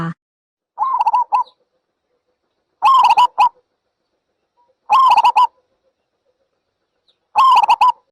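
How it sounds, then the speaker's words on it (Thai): A zebra dove gives short, trilling, staccato coo phrases, four separate bursts spaced a couple of seconds apart against silence, close and clear with no voices. "เสียงนก เขาชวา"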